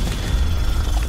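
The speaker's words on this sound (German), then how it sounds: "Also irgendein EMP oder sowas ist hier gerade explodiert." A deep rumbling explosion blast in the video game Crysis 2, with heavy low boom energy filling the whole short moment without speech.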